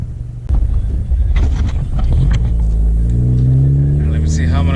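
A 10th-generation Honda Civic fitted with a PRL Cobra cold air intake accelerates, its engine droning up in pitch under loud wind buffeting, after a brief thump near the start.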